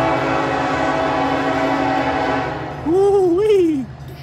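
A BNSF ACe locomotive leading the NS 222 freight train rumbles past with a steady multi-tone drone, then the loud horn sounds a short, wavering blast near the end.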